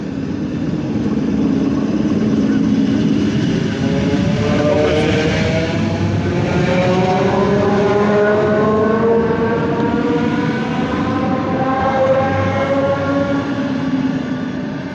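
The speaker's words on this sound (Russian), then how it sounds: "Все, наша электричка ушла на Минск" An electric commuter train leaves a rural station in Belarus bound for Minsk, its motors whining upward in pitch as it picks up speed, loud and steady throughout with no talking.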